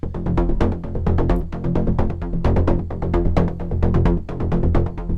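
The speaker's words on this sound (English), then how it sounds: "So the bass on its own sounds like this." A loud, pulsing synth bass line plays rapid repeated notes in a steady driving rhythm, with punchy attacks throughout.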